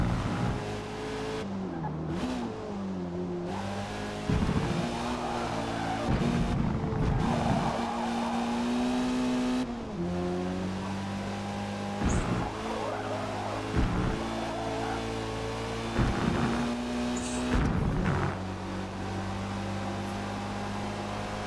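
A race car in the video game Forza Motorsport holds a loud, continuous engine drone that rises and drops through gear shifts and corners, with tire squeals and skids breaking in repeatedly.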